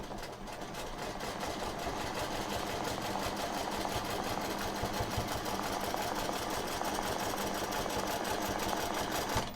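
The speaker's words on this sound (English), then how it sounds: "Okay, we're ready to stitch." Steady, fast mechanical whir of a sewing machine stitching a long curved line on fabric, running continuously and close with no pauses.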